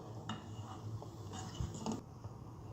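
Scraping and clinking of a utensil against a pan as mutton chop ingredients with salt and black pepper are stirred, a few louder knocks in between, with a low steady hum underneath.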